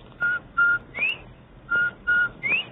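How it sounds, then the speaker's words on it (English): A bobwhite whistle call, clear and sharp, repeated twice as three notes each: two short level whistles, then a quick rising one, with a brief pause between the sets. "Everybody loves the cheery whistle of a Bob White."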